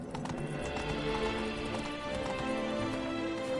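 Galloping hooves of a horse in The Witcher pound continuously and close, a dense rapid rhythm over music-filled game ambience with no talk.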